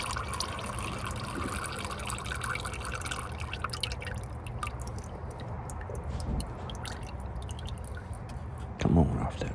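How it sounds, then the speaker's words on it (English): Motor oil drips from a Dodge Charger Scat Pack Widebody during a driveway oil change, a steady trickle of drops close by with someone talking throughout and a brief louder knock near the end. "About to come off. It's dripping."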